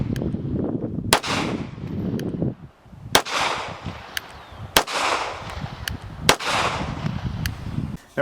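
A Beretta APX pistol fires at a shooting range, with about six sharp, loud shots spaced irregularly roughly a second apart, each followed by a rumbling echo over a steady background.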